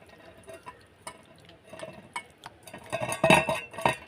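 Taro stolons being mixed by hand with mustard oil in a bowl give soft, irregular clinks and wet stirring noises, quiet at first and then busier and louder near the end.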